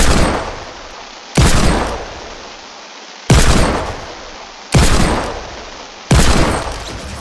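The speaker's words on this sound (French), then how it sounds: "Donc ici bah, c'est des pistolets," Pistol shots in a video game aim-training map, five sharp, loud reports spaced roughly every one and a half seconds, each decaying with a short tail, with no talk.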